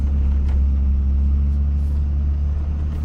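Dodge Ram pickup with a 5.9 Cummins diesel grinding through deep snow on a West Virginia mountain pass, a steady, loud low engine rumble that holds continuously with no talk.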